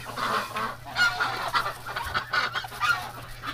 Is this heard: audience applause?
no